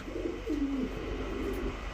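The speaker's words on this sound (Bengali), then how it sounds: "কবুতরগুলো দেখেন একেবারে টকটকা লাল গিয়ারের এক জোড়া চুইঠাল সুন্দরী কবুতর" Low, soft cooing of a pair of red Chuithal pigeons close by, a short rolling call over a steady background hum.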